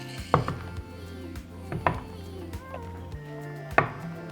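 Glass jars are lifted out of a pot after pasteurizing preserved eggs, giving three sharp, fairly close glassy clinks and knocks against metal, spaced about a second and a half apart, with faint clatter in between.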